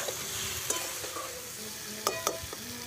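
Koi fish curry with Kashmiri chilli powder and sugar simmers in oil as the masala is stirred, giving a steady soft sizzle broken by a few sharp scraping clicks of a spoon against the pan.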